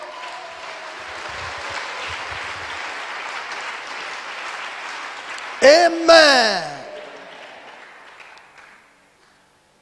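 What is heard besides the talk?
congregation clapping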